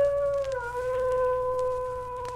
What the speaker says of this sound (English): It sounded like a wolf.